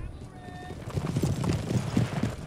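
Cavalry hooves clip-clop in the Empire: Total War battle, with hussars in busbies riding; a dense, rhythmic trampling of many horses grows louder after the first second, mixed with voices and game battle noise.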